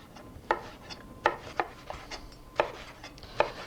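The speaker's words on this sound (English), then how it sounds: "Then cut the eggplant into sticks" A knife chops eggplant into cubes on a cutting board for a traditional ratatouille, with about seven crisp, close knocks at an uneven pace and no talking.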